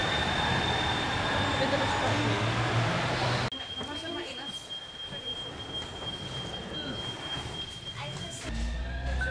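Copenhagen metro train riding, heard from the front car as a steady rolling rumble with a thin whine, which cuts to a quieter ride partway through and then a brief louder burst near the end.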